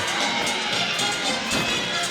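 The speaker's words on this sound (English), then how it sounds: "Their teammates cheering her on" Teammates cheer loudly for a college gymnast during a Mizzou at Auburn meet, a dense, steady crowd roar with shouts and a brief louder swell near the middle.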